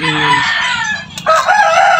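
A farmyard rooster crows loud and close with a long drawn-out call, followed by hens clucking and squawking among neighbours' chickens at feeding time.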